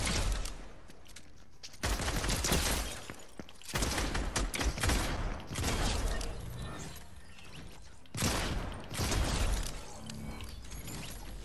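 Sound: pistol gunfire in the video game Fortnite

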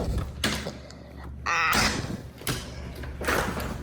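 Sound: door being opened to the outside

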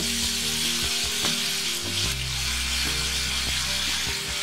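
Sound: ginger and garlic paste frying in spice masala

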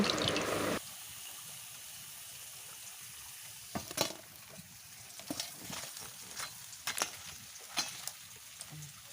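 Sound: pumpkin flower fritters frying

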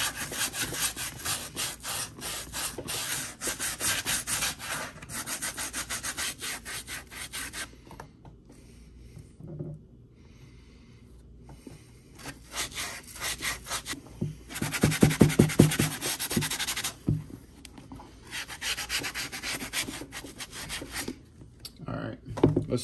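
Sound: sanding Red Wing 1907 leather boots

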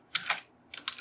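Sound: typing on a computer keyboard

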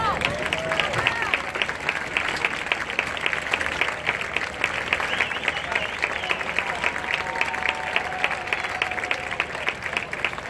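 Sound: audience applause

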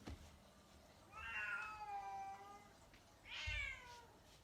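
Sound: cat meowing loudly

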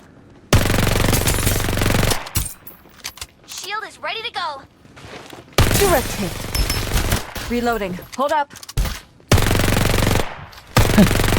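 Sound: gunfire in the video game Farlight 84

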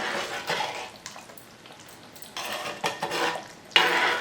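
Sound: stirring small fish into curry in a pot

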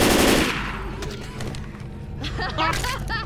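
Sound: gunfire in Left 4 Dead 2 video game

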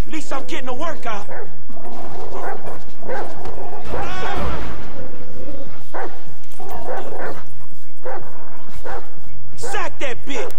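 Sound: dog barking in GTA 5 video game

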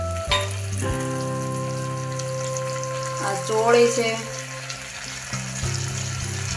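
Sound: ginger and chili sautéing in a pan

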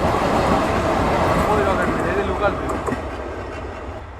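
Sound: Rocket Mail train passing at Singia junction

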